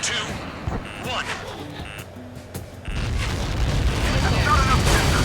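Missile explosion in the Ace Combat 7 flight game: a low, sustained rumbling blast that swells after a few seconds of jet noise and alarm tones, loud and dense, with game voice chatter underneath.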